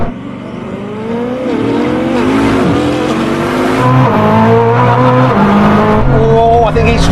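Koenigsegg Jesko race car accelerating hard in a rolling race, its engine note climbing through repeated gear shifts, loud and close with a brief tire squeal and a voice speaking over it.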